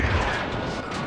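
An RPG blast in a Call of Duty Modern Warfare II battle lands as a heavy, booming crash with a rumbling low-end tail, loud and close.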